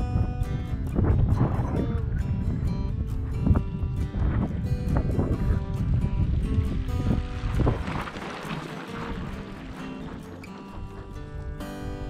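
A headwind buffets a cyclist touring the Australian outback, a loud, gusting low roar that rumbles steadily, then eases and thins near the end, with no talking.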